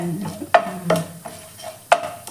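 Mustard seeds and urad dal crackle in hot oil while tempering for capsicum bath, sparse sharp pops and sizzles standing out clearly over a quiet background.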